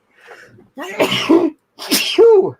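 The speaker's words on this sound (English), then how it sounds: "That was a manly sneeze." Two loud sneezes in a row, close by, each with a sharp breathy burst and a voiced tail.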